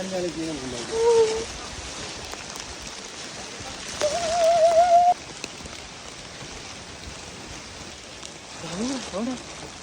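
Gentle, continuous light rain hiss runs throughout, with short bursts of people talking now and then, on a hill trek at Koonichi Mala.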